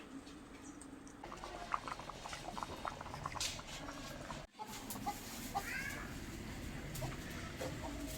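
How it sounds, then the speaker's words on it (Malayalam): Rice boiling in a pot in a home kitchen, a steady bubbling hiss and patter that runs throughout at moderate level, with faint background clatter and a brief dropout midway. "ചോറ് തിളച്ചുകൊണ്ടിരിക്കുന്നു"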